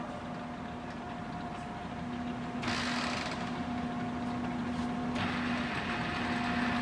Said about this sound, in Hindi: अभी हम पूरा हॉबिंग हेड आगे लेके जा रहे हैं.